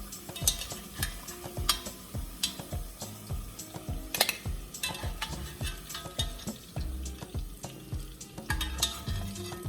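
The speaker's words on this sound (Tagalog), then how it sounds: "why we are doing this pan frying, because it will seal the flavor of our vegetables while cooking" Vegetables pan-fry for chicken afritada with a soft sizzle under repeated scraping and stirring strokes, close and moderately quiet, with occasional light clinks of a utensil against the pan and no speech.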